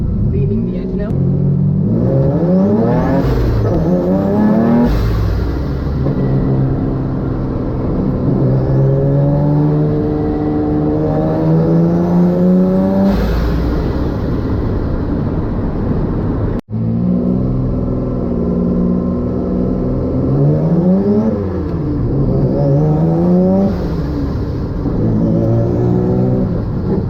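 A twin-engine car pulls hard under boost, its engines running lean with a failing fuel pump. Its revs climb in rising sweeps, fall back and surge again across two long pulls, loud and close, with a brief cut in the middle.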